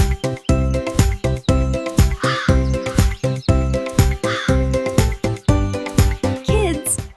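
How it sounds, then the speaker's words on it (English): A crow caws repeatedly in a steady rhythm, loud and close, with a tinkling tune running underneath. "This is a crow."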